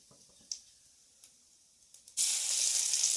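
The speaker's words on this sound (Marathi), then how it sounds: "हे टाकलेलं आहे लसूण आणि थोडासा कांदा" Garlic and a little onion hit a hot pan: a few quiet clinks, then a sudden loud, hissing sizzle that carries on steadily to the end.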